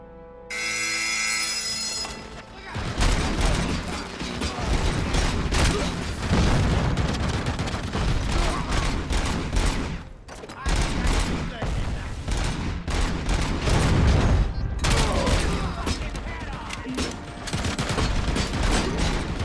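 Heavy, sustained gunfire in RoboCop: Rogue City: dense bursts of shots and booming impacts roll on almost without pause after a short ringing tone at the start, with brief lulls between volleys.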